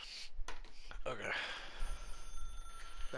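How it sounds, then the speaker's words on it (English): Telephone ringing in The Stanley Parable Ultra Deluxe, a repeating electronic ring at moderate level with a thin sustained tone, partly under gameplay sounds and some talk. "Pick up the phone."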